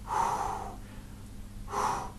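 Two deep, audible breaths come close to the mic, each a long airy draw lasting most of a second, separated by a quiet pause, with no talk over them.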